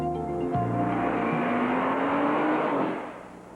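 A Porsche sports car drives past close and loud, its engine note sweeping steadily then fading toward the end.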